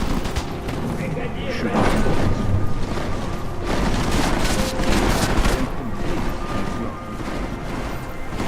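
Dense bursts of gunfire from the Deus Ex: Mankind Divided video game hammer almost without pause, with loud overlapping shots and booms forming a near-continuous barrage.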